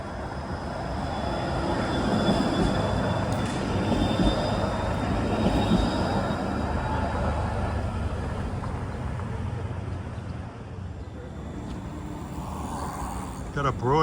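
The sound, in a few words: Toronto TTC streetcar trolley passing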